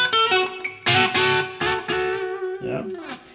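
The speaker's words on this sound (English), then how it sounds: "Nice kind of bluesy sort of double stop thing." An electric guitar with effects plays a short, bluesy double-stop phrase, with bent, sustained notes and wide vibrato on the held pair, loud and close, with no talking.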